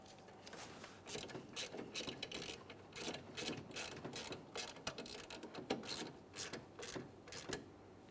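Ratchet wrench tightening the plastic-mounted air suspension valve block bolts on a 2011-2021 Jeep Grand Cherokee, a quiet, close, rapid run of clicking pawl strokes in uneven bursts.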